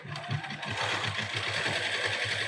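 A sewing machine with a double needle stitches embroidery on cotton fabric, producing a fast, steady rhythmic whirring and chattering that is close and continuous, with no talk.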